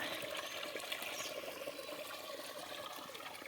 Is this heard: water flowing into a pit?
yes